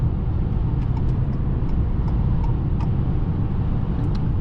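Ford Maverick XL with a 2.0 EcoBoost engine accelerating, heard from inside the cabin as a steady, loud low engine and road drone with faint ticks and rattles on top.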